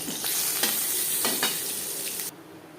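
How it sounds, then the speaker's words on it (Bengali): Whole cumin seeds sizzle in hot oil left from frying fish, a dense close crackling hiss with a few stirring scrapes, steady for a couple of seconds before cutting off sharply. "মাছ ভেজে নেওয়ার তেলে দিয়ে দিলাম গোটা জিরে"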